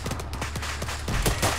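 Rapid automatic gunfire in the military shooter Arma 3 rattles off as covering fire, a dense, fast string of sharp cracks repeating close and loud with barely any pause between shots.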